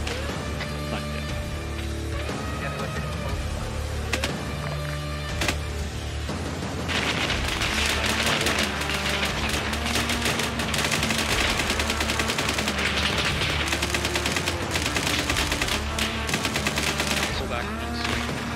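Heavy automatic gunfire in the military video game ARMA 3: dense, continuous machine-gun bursts grow louder and more intense after the first few seconds, with a few scattered individual shots early on.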